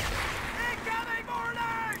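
An incoming artillery shell in the Medal of Honor: Vanguard video game whistles in a tone that wavers over two seconds, with a rumbling low end, while voices are heard over it.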